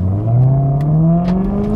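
A Maserati Quattroporte with an aftermarket exhaust revving, a loud, close engine note that climbs steadily in pitch across the clip with a deep, droning tone.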